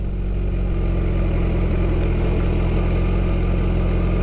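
Motorcycle engine running steadily with the throttle eased on, a loud, close, continuous low rumble with strong harmonic drone and no pauses.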